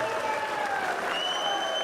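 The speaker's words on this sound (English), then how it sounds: "could we please have a big round of applause for both of our boxers" Crowd applause and cheering for both boxers at a professional fight night in Hull, a dense roar of clapping with whistles and shouts sliding through it, loud and continuous.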